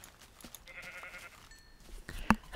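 Sheep bleating in the game Minecraft, a short nasal bleat in the first half followed by a sharper, louder sound near the end, over a quiet background.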